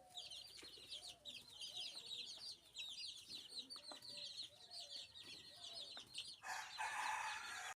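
Chicks in a coop in the evening, producing a near-continuous chorus of high, rapid peeping and cheeping at close range that grows louder and busier toward the end.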